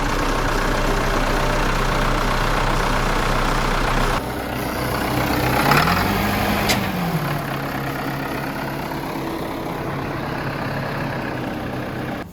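Old Versatile tractor engine cranking and catching, a steady low idling rumble that shifts pitch partway through and keeps running alone at close range.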